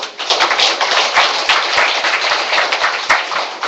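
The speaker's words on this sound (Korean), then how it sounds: "김영종 구청장님께 큰 박수를" A crowd of residents at a neighborhood New Year's greeting event in Jongno district, Seoul, claps for the district head. The clapping is brisk, dense and steady, close and loud throughout with no voices.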